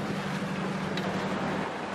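A sailboat motors under engine power with its mainsail raised, a steady broadband rush of engine drone, wind and water noise holding constant throughout, with no voices.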